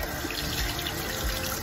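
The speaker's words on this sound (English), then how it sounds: "I'm gonna barely turn on the water to that right there" A bathroom sink tap is barely opened and runs lukewarm water while makeup brushes are being cleaned, giving a steady, soft, even hiss of flowing water with no talking.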